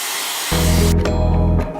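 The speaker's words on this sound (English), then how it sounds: "I am gonna go in with my hair dryer" A loud, steady motorized whir starts abruptly and hums continuously with a strong droning tone, close up, like a hair dryer running.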